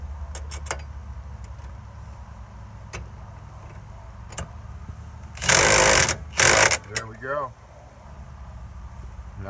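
A pneumatic impact gun tightens the rear wheel bolts on a 2008 Ford Escape, firing in two loud bursts followed by a shorter rattling one over a low steady hum, with clicks around them in a workshop.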